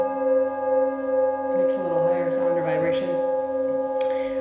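A Tibetan singing bowl struck on the inside and then grounded, giving a steady sustained ringing tone that holds throughout, with brief soft handling or voice sounds in the middle.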